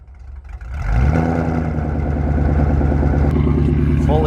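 A Ford Cobra's Whipple supercharged engine with full exhaust and long tube headers cranks and catches after about a second, then settles into a loud, rough, rumbling idle with light revs close by.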